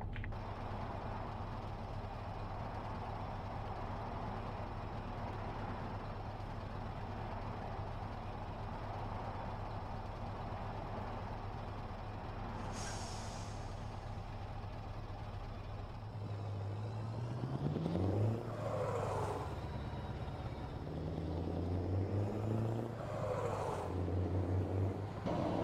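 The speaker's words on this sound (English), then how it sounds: "I'll try the engine brake soon." A Scania R440 truck in Euro Truck Simulator 2 drones with a steady engine hum that shifts partway through into a rising and falling engine-brake roar with changing pitch sweeps.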